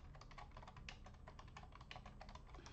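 Rapid, steady keystrokes on a computer keyboard as vertex shader code is typed, a quiet continuous patter of clicks close to the mic with no voices.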